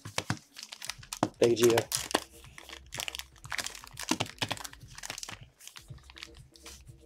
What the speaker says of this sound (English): Start shuffling the packs.